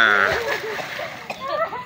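Someone jumps into the water during a family night swim, a single close splash and slosh, with voices calling around it.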